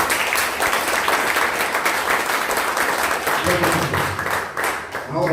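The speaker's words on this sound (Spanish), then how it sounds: "Dale las palmas al Señor" A Pentecostal church congregation claps and applauds for the Lord in steady, dense applause filling the room, with voices calling out beneath it; the sound thins toward the end.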